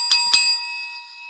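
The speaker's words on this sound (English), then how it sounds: "Ring the bell for that." A bell struck twice in quick succession near the start, each strike bright and close, then a long clear ringing tone that slowly fades.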